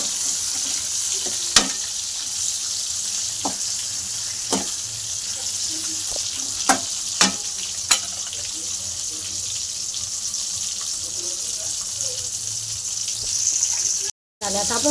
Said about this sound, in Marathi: आता कारले तळून घेऊ. कारले चांगलं तळून घ्यायचे तेलामध्ये.